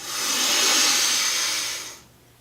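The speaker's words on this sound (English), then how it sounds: "Breathing." A long, steady inhaled breath during a martial arts beginner class breathing exercise, a broad airy hiss that holds for about two seconds and then fades, heard alone without talk.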